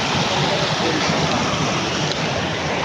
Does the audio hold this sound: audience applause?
no